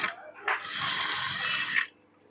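A sewing machine stitches along the neckline of a blouse, running in a steady close mechanical whir for over a second after a couple of short starts, then stopping.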